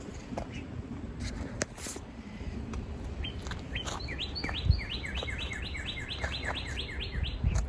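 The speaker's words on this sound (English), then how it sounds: "those are the birds chirping." Small birds chirp outdoors beside a daycare's play area, a rapid run of bright tweets repeating over steady background noise at a moderate distance.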